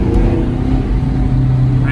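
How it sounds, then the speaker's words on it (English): Chevrolet Camaro SS with a JB4 tune and extra boost, its engine revving with a steady, loud low rumble that holds through the whole moment, with a voice talking over it. "The sound of this car."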